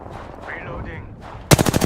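Battle royale video game gunfire, a quick loud burst of rapid automatic shots arriving after a short stretch of voice-like in-game chatter.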